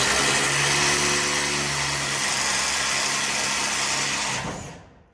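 A loud, continuous power drill whirs steadily for several seconds while drilling holes for wiring in a house under construction, then winds down and stops.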